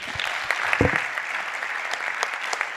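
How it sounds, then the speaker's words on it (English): Audience applause for panelists at a gene-editing agrifood panel event, a dense steady patter of many hands filling the room while a speaker talks over it. "Please give them another round of applause."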